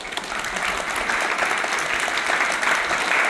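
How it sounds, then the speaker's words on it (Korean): A lecture hall audience gives sustained, dense applause at a Democratic Party lawmaker's guest talk, steady and fairly loud throughout. "우리 이광희 의원님께 다시 한번 큰 박수 한번 좀 부탁드리겠습니다."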